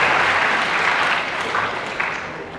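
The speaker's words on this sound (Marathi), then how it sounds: "सर्वांनी याचं टाळ्या वाजवा खरंच" An audience at a college student induction programme gives a dense, close burst of applause that slowly fades, with no voices over it.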